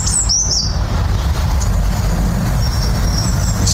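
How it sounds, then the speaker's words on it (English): A bird tweets in a garden, with a few brief high chirps standing out over a loud, constant low rumble of traffic or machinery. "And this morning, it's a bird in the garden."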